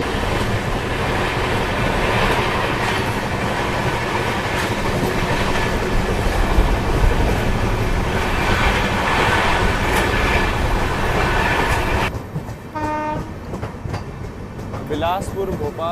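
Bilaspur Bhopal Express, a combined express and passenger train in India, rumbles loudly and steadily with dense wheel clatter, then about twelve seconds in the roar drops and briefer clicks and tonal squeals are heard.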